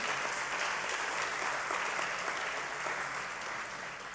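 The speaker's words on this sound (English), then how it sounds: "Yeah, applause." Audience applause in a hall at a mathematics education conference plenary, a continuous even patter of many hands clapping, moderately distant and fading slightly toward the end.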